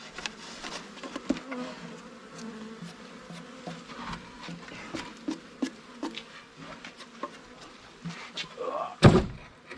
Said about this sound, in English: The bees are going crazy over that light.